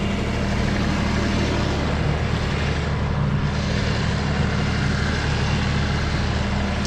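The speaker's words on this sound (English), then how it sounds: "I want to get away from that ripping tractor here" A tractor engine runs steadily and loudly nearby while skidding wood, a constant rough low drone with a ripping edge that holds unchanged throughout, with no voices.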